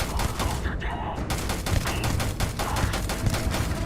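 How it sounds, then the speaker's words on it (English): Rapid gunfire from the video game Starfield crackles in a dense, continuous burst of loud, close shots with a fast, irregular rhythm and barely any pause. "Alright, I'm shooting him."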